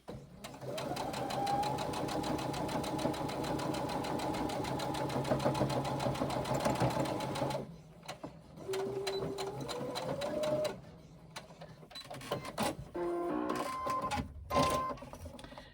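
A sewing machine stitches a zippered pocket lining for a crossbody bag, running steadily and loud for about eight seconds, then stopping and restarting in shorter bursts with pauses between.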